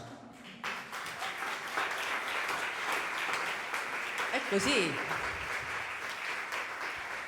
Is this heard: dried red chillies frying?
no